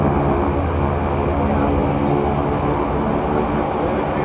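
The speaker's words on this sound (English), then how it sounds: "You'll get a good view of the aircraft and the formation as they wind their way in front of you" Several World War II propeller planes fly past in formation, a loud steady engine drone that fills the whole stretch without letting up.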